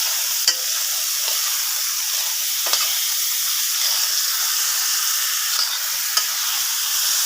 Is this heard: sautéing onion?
yes